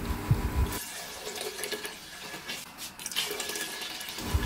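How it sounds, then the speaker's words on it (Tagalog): Water poured into a cooking pot for creamy chicken sopas, a continuous rushing splash of liquid filling the pot, loud and close, running steadily throughout. "maglalagay na tayo dito ng mga 18 cups ng water or 20 cups ng tubig"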